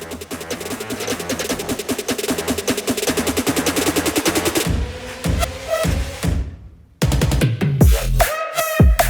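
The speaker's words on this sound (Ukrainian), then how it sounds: "збираємо пістолети, заряджаємо магазини і йдемо постріляємо" Glock and Beretta pistols fired in rapid strings of sharp, loud shots, a fast regular burst followed by a brief gap and then more closely spaced shots, heard close with no talk.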